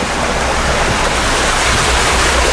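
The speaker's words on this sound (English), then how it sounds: "There's the ocean out here." Ocean waves wash beside a cruise ship deck, a continuous loud broadband rush of surf and water with steady wind noise, no voices.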